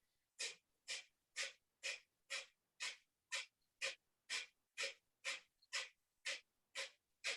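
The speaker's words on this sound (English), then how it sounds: "It's a rapid exhale through the nose, always inhaling." Rapid, forceful exhales through the nose during a breathing exercise, fourteen sharp evenly spaced puffs in a steady rhythm, close and clear with silence between them.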